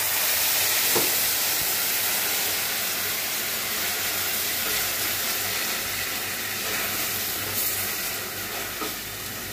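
Ginger paste and spices for mustard hilsa frying in a pan with a splash of water, giving a steady, close broadband sizzle and hiss with occasional stirring clinks, continuous throughout with no talk.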